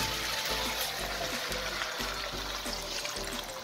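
Water being poured from a vessel into a kazan with spiced ingredients for a Russian-style potato stew, a continuous close splashing pour.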